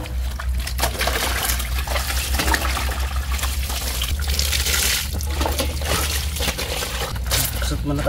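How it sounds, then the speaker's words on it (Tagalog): A dirty uniform worn at a river is scrubbed by hand in water, giving a steady, close wet sloshing and rubbing that runs without a break. "Kusot muna tayo ng ating uniform."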